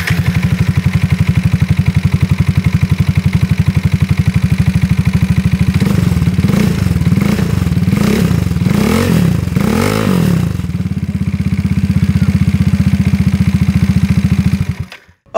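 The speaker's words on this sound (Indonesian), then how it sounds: "Oke, boy, jadi ini dia suara knalpotnya." A modified Yamaha NMAX scooter fitted with an aftermarket Burnout exhaust idles with a deep, steady rumble, then blips through several sharp revs in a row before settling back to a loud idle, close up with no talking.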